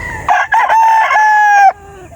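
A fighting cock or stag rooster crows once, loud and close, a strained harmonic call of about one and a half seconds with a choppy start, then fading to faint background.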